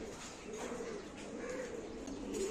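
Pigeons coo softly and steadily after being released, their low murmuring calls continuing throughout against a dense outdoor background without any talking.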